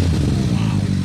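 A 2000 Kawasaki ZRX 1100 motorcycle idles close by, a loud, low, steady engine rumble with a lumpy, pulsing beat and no other sounds over it.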